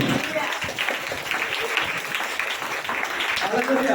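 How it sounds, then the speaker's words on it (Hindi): An audience at a Hindi Christian church gathering claps together, dense applause filling the moment at a steady, fairly close level while speech is also present. "ताली बजा"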